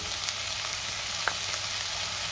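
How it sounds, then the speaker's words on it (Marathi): Onion, tomato and a ginger, garlic and green chili paste sauté in a hot pan for a Marathi dried-prawn dish, giving a steady soft sizzle with a faint stir click partway through. "आणि आता हे सगळं मी 2 ते 3 मिनिटं परतून घेणार आहे"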